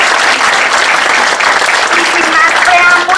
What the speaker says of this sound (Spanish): a quien quiero que le brinden un fuerte aplauso